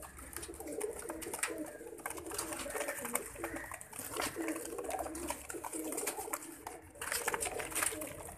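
Soft, repeated pigeon cooing close by, with rustling and faint background noise throughout.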